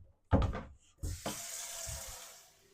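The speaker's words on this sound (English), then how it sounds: "So filling up the water, make it pretty easy." Tap water runs into a container for watering orchids, a short splashy burst followed by a steadier hiss of flow that tapers off, with a few soft knocks and handling noises around it.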